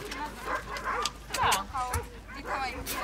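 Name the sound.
dog barking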